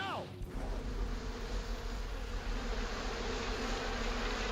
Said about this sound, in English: they explode just to attract giant killer bees